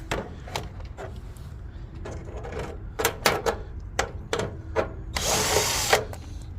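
A power drill drives screws into a plastic downspout extension in short whirring bursts separated by pauses and small clicks and knocks. One longer, brighter burst comes near the end. The sound is close, and nobody talks.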